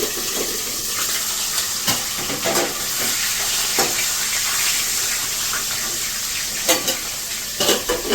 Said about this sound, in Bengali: তো আমি মাছের মাথাটাকে ভালো করে একটু ভেজে নিই